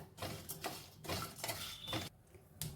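Seeds, cashews and walnuts roasting in a dry pan, stirred in repeated scraping strokes with a utensil clinking against the metal, close and moderately quiet.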